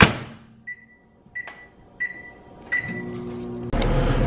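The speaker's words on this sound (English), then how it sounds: "go ahead, microwave this" Several short electronic beeps from a microwave oven sound at intervals, followed by a steady low hum as it starts running, with clicks and handling noises in between.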